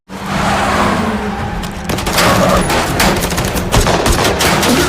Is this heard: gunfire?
yes